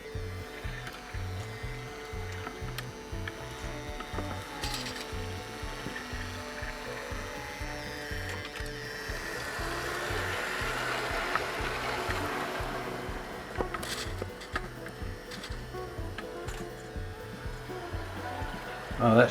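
A running model LNER Class A1 locomotive with a glowing firebox gives a steady, rhythmic mechanical clicking and whirring up close. Faint background noise runs underneath.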